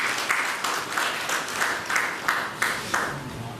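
An audience at a formal ceremony applauds a guest standing to be honoured, producing a sustained, fairly close round of clapping that pulses in steady waves.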